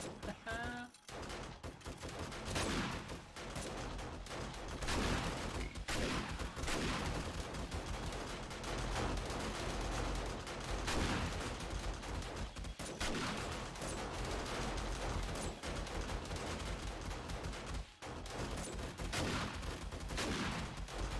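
Rapid video game gunfire aimed at a spitter enemy in a horde base: dense bursts and volleys of shots crackle almost nonstop across the clip, with brief gaps between bursts.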